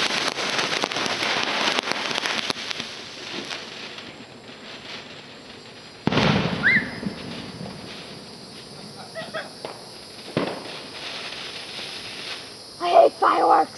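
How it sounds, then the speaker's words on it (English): Outdoor backyard fireworks and firecrackers go off with sharp bangs and crackling bursts, a strong blast in the middle and smaller pops near the end, with voices and background noise throughout. "I hate fireworks!"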